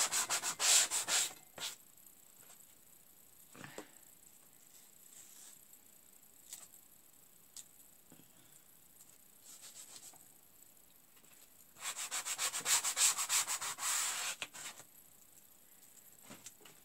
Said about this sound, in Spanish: Aquí le paso un poco la lija.